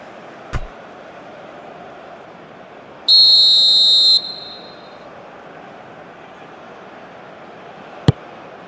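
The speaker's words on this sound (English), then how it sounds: "And the whistle's gone, presumably for offside." A referee's whistle for offside in a football video game, one sharp shrill blast of about a second standing out clearly above a quiet crowd murmur, with two brief clicks elsewhere.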